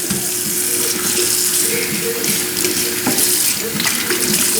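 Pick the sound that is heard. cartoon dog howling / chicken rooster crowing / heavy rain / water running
water running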